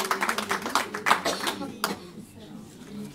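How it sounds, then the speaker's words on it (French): An audience at an annual assembly claps after a reading, a brief burst of scattered applause that fades quickly into quiet as a voice continues. "Je crois qu'on peut les applaudir"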